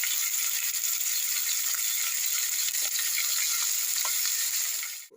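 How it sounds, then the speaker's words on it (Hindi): Tomatoes frying in a pan for Kathiawadi khichdi: a dense, even hiss of sizzling runs throughout with a few faint clicks, then cuts off at the very end, with no voices. "और इस टमाटर को हम तब तक भूनेंगे जब तक कि ये अच्छी तरह से गल ना जाए।"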